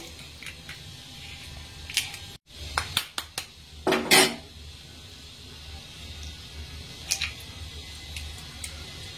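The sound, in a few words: cracking and beating two eggs for an omelette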